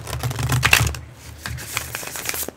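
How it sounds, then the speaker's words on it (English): Living Reiki Healing cards are shuffled by hand, giving a quick crisp riffling burst followed by several softer scattered flicks and taps of the deck. "I'm going to shuffle."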